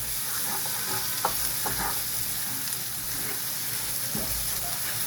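Food sizzles and fries in a pan while a spoon stirs through it, scraping and clinking a few times over a constant close hiss, with no talking.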